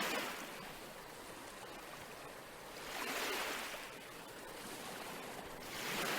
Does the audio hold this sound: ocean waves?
yes